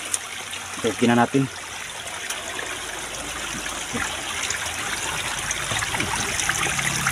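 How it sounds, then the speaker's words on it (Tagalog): Water flows in a small stream in rough outdoor terrain, a steady close trickling wash that runs the whole time, with someone talking briefly near the start. "Mayroon daloy dito na tubig mga kaipis."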